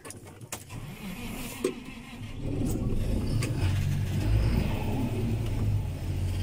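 A 2017 John Deere 7210R tractor engine cranks with a short whir and catches after about two seconds, then settles into a steady, loud, rumbling idle that holds to the end, with no talking over it.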